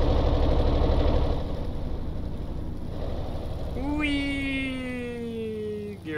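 A propeller aircraft's engine in the Stormworks game starts up and runs, a steady rumble giving way to a rising, spooling drone with strong harmonic whine near the end, loud and close throughout.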